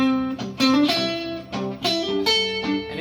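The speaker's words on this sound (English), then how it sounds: "Do my hammer-on licks." Electric guitar playing pentatonic hammer-on licks, with quick legato note changes in a steady run of close, loud phrases with a slightly distorted tone.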